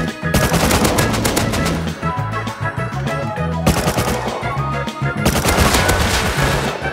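Rapid automatic gunfire in the video game Rust during a large oil rig raid, dense loud bursts of shots with brief gaps, close and without talk.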